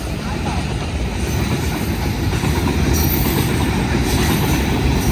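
Train wagons rolling past, a loud, steady rumble and rattle of wheels on track close by, continuing through the whole stretch with faint squeal, while people talk nearby.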